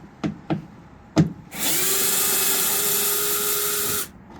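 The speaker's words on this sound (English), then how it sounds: "Gonna pull some of these fasteners out of my rear fender liner now." A Snap-On Nano cordless access driver backs a fastener out of a car's rear fender liner: a few short clicks, then a steady high motor whine for about two and a half seconds before it stops, close and loud.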